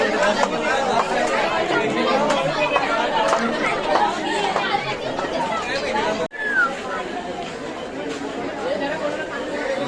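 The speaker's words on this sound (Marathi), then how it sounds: "आज गर्दी मजबूत आहे." Dense crowd at a Mumbai Ganpati darshan, a steady loud babble of many voices filling the space, with a brief dip partway through before the chatter resumes.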